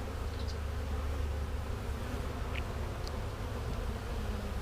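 Honeybees in an apiary hive give a steady, soft, continuous hum with no break and no voices, heard at a low level throughout.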